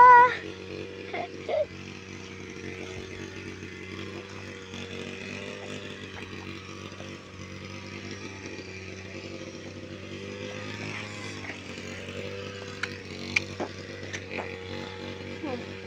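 A grass cutter runs outdoors with a steady droning engine hum that holds at an even level throughout, moderately close, with a few faint clicks and brief background sounds.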